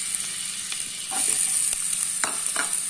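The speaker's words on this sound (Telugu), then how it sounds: "ఇప్పుడు మనం ఆనియన్స్ వేసుకుందాం" Onions sizzling and being stirred in a pan for mushroom pasta, a steady hiss of frying with a few soft scraping stirs and no talking.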